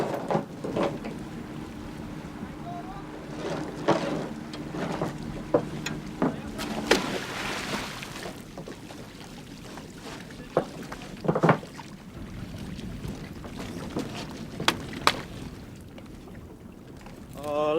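A boat moves slowly through shallow coral water 1 to 1.5 meters deep near Tahiti, with a steady low engine and water hum, wind buffeting and scattered knocks.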